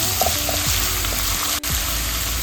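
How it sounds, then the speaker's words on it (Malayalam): Ginger frying in hot coconut oil gives a close, continuous sizzle that stays even throughout, broken only by one brief sharp click. "വെളിച്ചെണ്ണ ചൂടായിട്ടുണ്ട് അതിലോട്ട് നമുക്ക് ഇഞ്ചി ഇട്ടാം നല്ലപോലെ മൂക്കണം"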